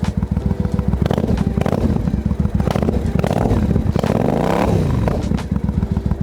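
A 2005 Triumph America motorcycle with a carbureted engine warming up, its loud close idle pulsing in a steady rapid thump, with a rising and falling rev partway through and some mechanical clatter.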